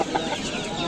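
Chickens at the Andijan poultry bazaar, a steady, close mass of clucking and fowl chatter throughout, with one brief louder squawk near the start.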